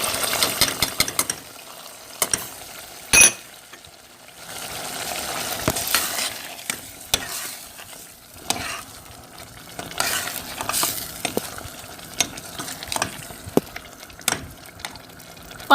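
Green beans sizzle in spiced masala in a curry pan, frying steadily while a spoon scrapes and stirs with repeated knocks against the pan, close and with no one talking.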